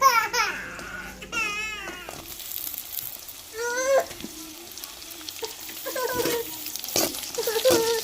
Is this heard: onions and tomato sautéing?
yes